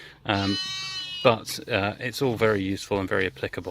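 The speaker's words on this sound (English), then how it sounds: "I apologise for the noise of sheep in the background" Sheep on a farm bleat in the background, with a long wavering bleat early on, heard under someone talking close to the microphone.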